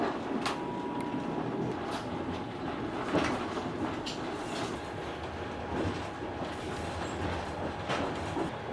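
A Trans-Siberian passenger train rolls along its rails during a snowstorm, a steady, loud rumble with periodic clicks and clacks from the wheels crossing rail joints, continuous throughout.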